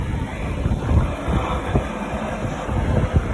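Strong, gusty wind buffets the microphone during a helicopter airlift from a cruise ship in stormy conditions, a loud low rumble with irregular thumping bursts and no talk.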